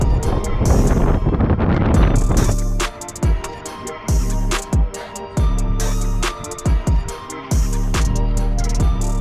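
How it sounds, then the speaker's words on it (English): Strong gusty wind by the ocean in remote Australia buffets the microphone in loud rumbling bursts, rising and dropping in uneven surges with no voices. "Seems pretty windy, but yeah."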